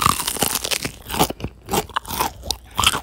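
Crisp, loud crunching bites of crispy fried chicken close to the mic, a rapid series of crackly chews with short pauses between them.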